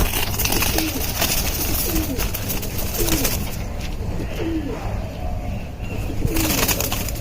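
Silver pigeons coo repeatedly in a low, rolling rhythm, several calls spaced about a second apart over steady background noise and faint voices.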